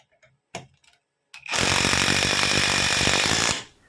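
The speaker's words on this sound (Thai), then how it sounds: "ลองสกูสามนิ้วกันบ้างนะครับ ผมจะยิงในระดับที่สองก่อน อ่าลองเปลี่ยนมาเป็นระดับที่สามนะครับ" A Stanley FatMax SBI820 cordless impact driver drives a three-inch screw in one loud, close, continuous rattling hammer burst of about two seconds, preceded by a few faint clicks and brief handling noises.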